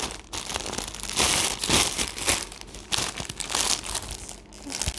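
Plastic parcel packaging around a newly delivered polycrepe dress crinkles and rustles continuously as it is pulled open, close to the mic, with denser bursts of crackling in the middle.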